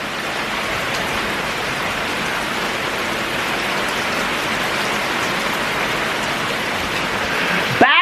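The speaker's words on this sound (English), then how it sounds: "look, it is pouring down rain." Heavy rain pouring down outdoors, a steady loud hiss of falling water with no breaks, ending with a brief rustle.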